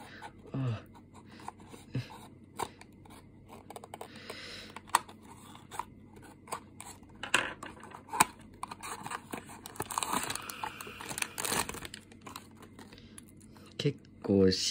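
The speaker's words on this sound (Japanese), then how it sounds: "早速開封していきたいと思います" Packaging around a Tomica Hitachi ZW220 wheel loader toy is torn and crinkled open at close range, with scattered sharp clicks and rustles spread across a quiet stretch.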